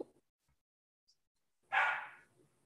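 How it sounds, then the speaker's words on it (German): A pet dog gives a single short burst of barking, loud and close, after a stretch of near silence with a few faint small noises. "Mein Hund."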